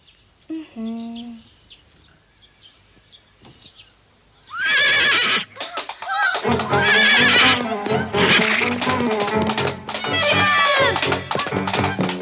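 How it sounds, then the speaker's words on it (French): A cartoon pony whinnies loudly and repeatedly with shrill, wavering neighs and some clip-clop hooves, starting with a brief voice and then a long, continuous stretch of close neighing. "dis Sarah, tu me donnes la permission de caresser ton poney?"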